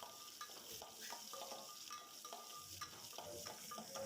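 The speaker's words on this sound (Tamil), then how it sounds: "சின்ன வெங்காயம் ஒரு 10 ஆட் பண்ணி நல்லா மிக்ஸ் பண்ணி விட்டுக்கலாம்." Garlic and small onions frying in a pan for a horse gram lentil sambar, with a spoon stirring and scraping through a steady sizzle in a series of clinking strokes, close and moderately loud, no talk.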